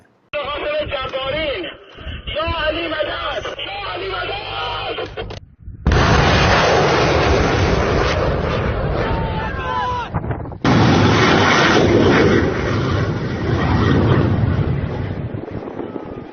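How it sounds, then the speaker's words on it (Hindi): Missiles fire at an American aircraft carrier in an Iran–America clash, heavy roaring launches and blasts that carry on continuously and loudly, with wind buffeting and voices shouting over them. "मौला अली से मदद मांगते हुए अमरीकी कैरियर पर मिसाइलें दागी जा रही हैं"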